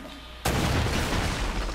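A sudden loud blast erupts in the Uncharted: Drake's Fortune video game, a sharp onset followed by a dense, rumbling roar of explosion and debris that holds steady to the end.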